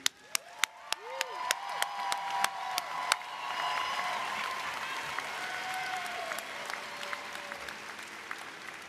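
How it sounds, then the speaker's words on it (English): Audience applause at a medical school commencement ceremony: a few sharp individual claps open, then a dense, steady wave of clapping fills the hall, with faint cheering and crowd murmur beneath. "if we can get a round of applause for an awesome academic achievement"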